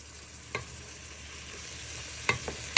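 Aussie meat pie filling of mince with dill cooks in a pan, a quiet low sizzle with a few sharp spoon knocks and scrapes against the pan.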